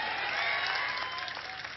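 Crowd applause at a political rally in Bhavnagar, Gujarat, a steady wash of clapping that stays fairly even across the short stretch, with a faint voice showing through.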